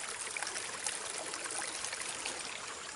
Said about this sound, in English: Look, the water is coming down real good. It's a little flooded right there, and it's washing off down to the side.